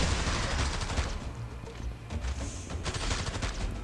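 Rapid bursts of gunfire from the Arknights video game crackle continuously, dense overlapping shots rolling through the whole stretch at moderate loudness.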